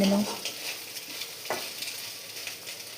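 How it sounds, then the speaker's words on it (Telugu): Beaten eggs poured into hot oil in a pan for Indian-style egg fried rice, a soft steady sizzle with a brief scrape of a spoon midway, close and alone without voices. "ఎగ్స్ని బీట్ చేసి వేసేయండి."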